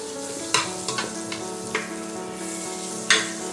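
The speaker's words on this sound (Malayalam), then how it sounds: "കുറച്ച് വെണ്ണ നമ്മൾ ബട്ടറിട്ട് ഇട്ട് കൊടുക്കുക" Butter sizzles as it melts in a pan for mushroom soup, a steady fry hiss punctuated by a few sharp clicks and scrapes of stirring, close and clear with no voices.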